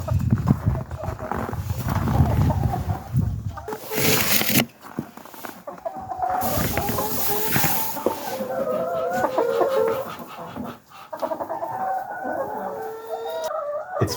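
Hens clucking and a rooster crowing inside a chicken house on a snowy winter farm, busy close calls mixed with some rustling, a few louder bursts of squawking throughout.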